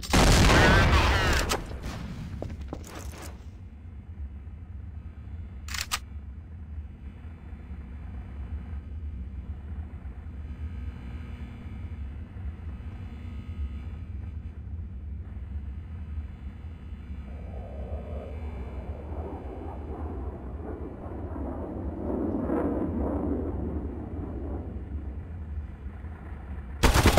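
Grenade blast in Counter-Strike: Source, a loud bang right at the start followed by a couple of sharp shots, then a long low hum of quieter game ambience with faint movement and a burst near the very end.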